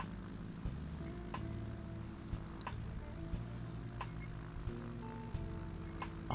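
Seaplane engine being throttled up in a flight simulator, a steady propeller drone with shifting tonal hum and occasional small clicks, fairly quiet and with no talking.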